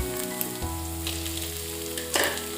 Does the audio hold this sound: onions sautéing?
yes